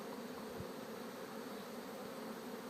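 Bees swarm around a beekeeper and land on his head, ears and clothing, a steady close, even buzz with no talking.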